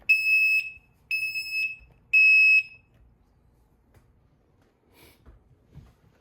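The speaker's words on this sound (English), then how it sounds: "It's a really loud piezo in this." A school fire alarm's piezo sounder gives three loud, shrill, evenly spaced blasts, each under a second, and then falls silent apart from faint room noise.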